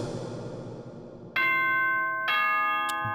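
A bright two-tone ding-dong chime plays in the Danganronpa video game ahead of a school announcement, ringing clearly over a quiet backdrop of soft music.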